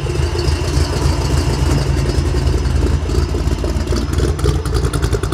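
A candy green 1957 Chevrolet Nomad idling loudly through its exhaust pipes, a steady deep burbling rumble with a slightly lumpy pulse, close and continuous with no voices.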